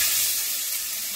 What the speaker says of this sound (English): I'm gonna start by frying a bit of tomato.